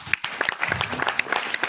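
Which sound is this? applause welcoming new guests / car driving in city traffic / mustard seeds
applause welcoming new guests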